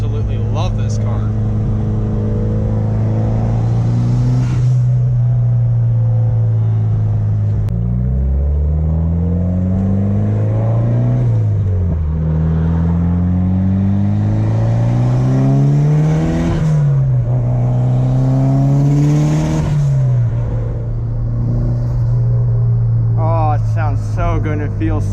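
Engine of a Mitsubishi Evo running steadily while driving, a loud continuous low drone that rises and falls in pitch as it revs through gears, close and dominant throughout.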